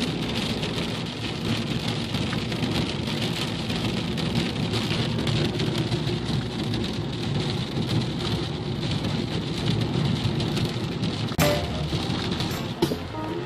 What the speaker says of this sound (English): looks like it's going to rain for at least an hour, which is awesome.